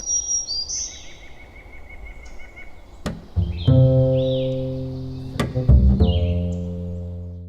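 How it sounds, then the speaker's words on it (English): A black-throated green warbler sings high, thin buzzy phrases in a forest on the Appalachian Trail, the notes repeated over a lower background of tonal sounds. "Black-throated green warbler."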